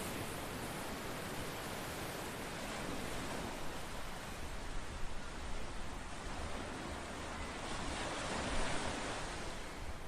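Sea waves at the seashore, a steady broad wash of surf and breaking water with a gentle swell in loudness, continuous and fairly close with no voices.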